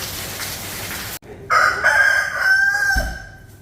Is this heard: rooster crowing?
yes